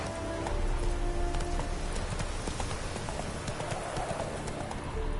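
Roach the horse galloping in The Witcher 3, a fast, close, continuous drumming of hooves with dense rhythmic clip-clops over a loud background rush.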